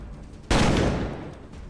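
Gunfire in the sci-fi RPG Colony Ship: a sudden loud burst of shots that keeps rattling on and slowly fades, with no talk over it.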